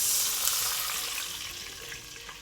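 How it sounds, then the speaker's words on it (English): Seafood sizzling and frying in a pan, a steady hiss that fades slightly as water is poured in, with faint bubbling and stirring underneath. "We'll fry them until they are slightly brown."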